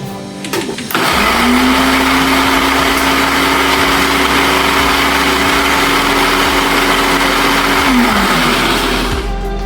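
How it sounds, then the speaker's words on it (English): Kitchen blender chopping dried lemongrass for masala tea switches on after a brief clatter and runs at a loud, steady whine for about seven seconds before winding down. "we are going to add our dried lemongrass into the blender"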